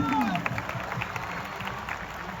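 An audience at a university youth gathering claps for the students, a steady patter of applause under a hum of room noise, with faint voices and a brief tonal sweep at the start.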